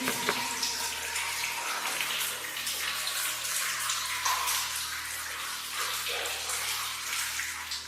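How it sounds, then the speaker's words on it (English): Water rushing steadily through a drainage channel in a mine, a continuous broadband splashing flow heard close and fairly constant throughout, with no talking. "You see the water's shunted off to the side here and is flowing out"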